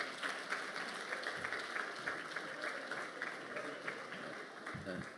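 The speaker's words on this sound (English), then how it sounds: "Please give him a round of applause" A conference audience applauds steadily as a company CEO walks on stage at a Cell C JSE stock exchange listing event, with dense clapping throughout and a low voice or rumble near the end.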